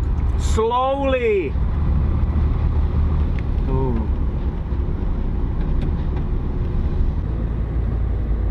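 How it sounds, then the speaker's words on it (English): A steady, loud engine and road rumble from a car being driven, continuous throughout, with an animated voice speaking over it. "We are going by car. I am driving."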